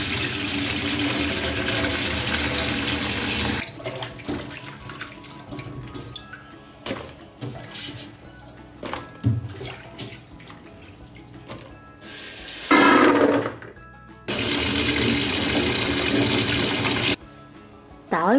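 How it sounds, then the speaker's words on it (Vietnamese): Tap water runs hard over green bird's eye chilies being rinsed for pickled garlic and chili, loud steady bursts of gushing flow broken by quieter stretches of handling and splashing, with no talk. "Bây giờ thì mình sẽ đi rửa sạch qua nước"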